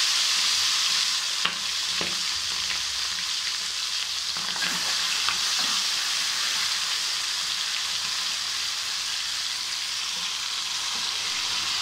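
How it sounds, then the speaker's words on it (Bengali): Marinated chicken leg pieces fry in hot oil in a wok, giving a steady loud hiss and crackle throughout, with a few soft knocks as pieces go in and no talk. "এখন আমি তেলের মধ্যে এক এক করে চিকেনের লেগ পিসগুলো তুলে দিচ্ছি।"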